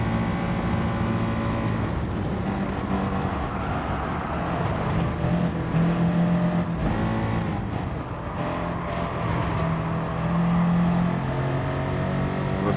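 A Porsche race car engine in Gran Turismo 7 drones steadily at high revs, pushed hard throughout, with pitch shifts as gears change and the throttle eases and picks up again, loud and continuous.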